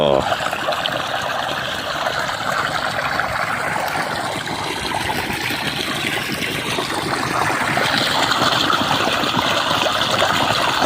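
Steady rushing water flows without pause, loud and close, a continuous gushing stream.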